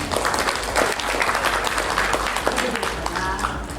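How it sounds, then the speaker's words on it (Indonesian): Audience applause at a welcoming ceremony for new civil service recruits at BRIN, Indonesia's national research agency, steady and full across the whole stretch, with a voice talking over the clapping. "Kita berikan tepuk tangan dulu."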